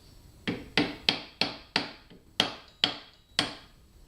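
Sharp metallic taps on a GS550 cafe racer motorcycle while prying under a nut with a screwdriver, about eight close, distinct strikes at an uneven rhythm, each ringing briefly, no talk.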